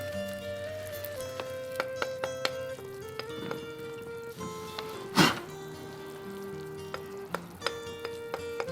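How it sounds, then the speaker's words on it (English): Soft bubbling and sizzling of California red pitch melting and boiling, with scattered pops and a sharp crackling burst midway over a faint steady tone. "So you can see the pitch is just melting and like boiling."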